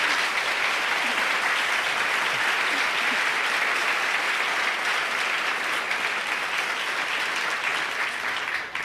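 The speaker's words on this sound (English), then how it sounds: "a round of applause for them as we end the Q&A" Full, steady applause from the audience at an award ceremony as a Q&A session ends, dense continuous clapping filling the room at an even level, easing off only at the very end.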